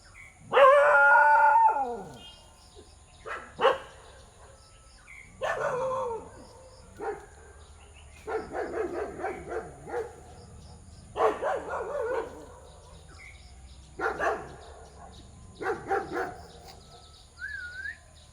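Several dogs howl and bark close by in repeated bursts, a long wavering howl first and then short yelping barks separated by pauses, with faint birdsong in the background.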